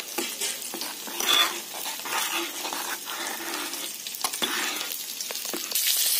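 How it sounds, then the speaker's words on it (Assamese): Fish frying in a pan in a home kitchen, a steady close sizzle with occasional scraping and stirring clinks of a utensil against the pan throughout, no talking. "ইফালে মাছখিনি মোৰ ভাজি হৈ গৈছে"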